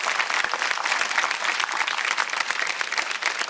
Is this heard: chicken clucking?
no